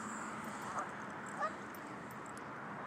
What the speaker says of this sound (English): Say good morning, duckies.